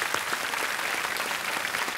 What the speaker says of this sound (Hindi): एक बार तालियां बज जाए